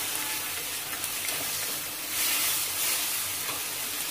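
Spices with chili powder and fennel sauté in oil in a pan for an oil-brinjal kuzhambu, giving a soft, continuous hissing sizzle at close range that swells slightly midway, with no talking.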